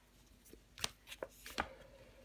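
Tarot cards being laid out and placed over one another on a table: a few soft, scattered taps and papery slaps, close and quiet, with faint rustling between them.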